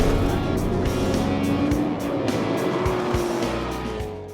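A Ford Mustang Shelby GT350R runs on a racetrack, with a loud engine roar and tire noise that is close at first and then fades slightly as the car moves through.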